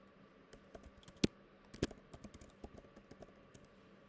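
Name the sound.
typing an add-on name on a computer keyboard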